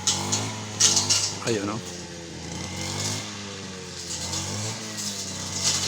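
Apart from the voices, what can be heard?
grass cutter cutting grass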